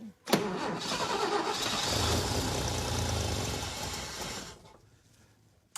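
A 1966 International pickup engine cranks and catches, running loud and rough for about four seconds with a steady mid-pitched roar before dying away, the carburetor running hot.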